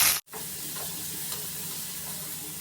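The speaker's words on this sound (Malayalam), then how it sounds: "കുറച്ച് വെളിച്ചെണ്ണ ഒഴിച്ച് അതിൽ കടുക് പൊട്ടിച്ച് കുറച്ച് ഉഴുന്ന് പരിപ്പും കറിവേപ്പിലയിട്ട് നന്നായിട്ട് വഴറ്റിയെടുക്കാം" Mustard seeds, urad dal and curry leaves sauté in coconut oil, giving a steady close sizzle and hiss with light stirring after a brief silent gap at the start.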